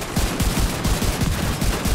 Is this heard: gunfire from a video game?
yes